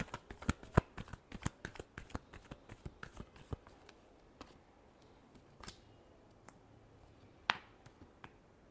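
Tarot cards are shuffled in a run of quick, crisp riffles and snaps close by. The strikes come in an irregular rhythm that thins out toward the end, with one sharp final snap and no talk.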